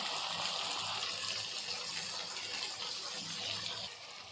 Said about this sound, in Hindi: 1 कटोरा इसमें पानी का जाएगा। डालेंगे